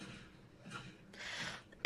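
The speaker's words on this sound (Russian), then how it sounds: "Нельзя кашлять?" A person gives a few short, breathy coughs and throat sounds close by, ending in one sharp, louder cough.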